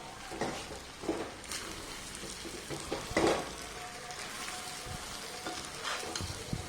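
Mutton coated in masala sizzles steadily as it is stirred and fried in a pan, with scraping stir strokes breaking through the continuous frying hiss at close range.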